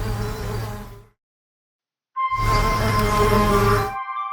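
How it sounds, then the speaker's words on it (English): Cartoon bees buzz busily at their hive, a loud, steady droning hum in two stretches broken by a brief silence. "The bees are busy at the hive."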